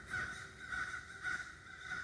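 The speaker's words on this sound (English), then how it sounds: "those pesky birds are up there making noise" Ravens caw in the early morning, four evenly spaced harsh calls repeating at a steady rhythm, faint and somewhat distant.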